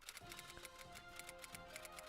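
Typewriter keys clacking in a rapid, uneven run of sharp strikes, with faint background tones underneath, played as a quick breaking-news sound effect.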